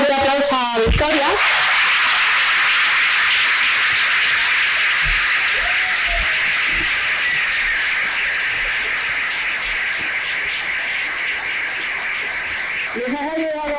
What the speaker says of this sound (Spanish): Un fuerte aplauso a Victoria